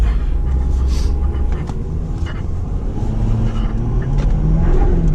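A tuned 2018 Ford F250 pickup accelerates hard on a neighborhood road, its engine roaring steadily with a loud continuous drone as the tires break loose, captured from inside the cab.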